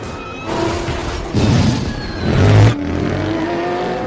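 Racing car engines rev during a race scene in a film, loud and near, with several rising surges of acceleration layered over a continuous engine roar.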